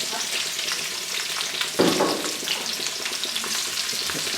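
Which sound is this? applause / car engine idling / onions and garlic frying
onions and garlic frying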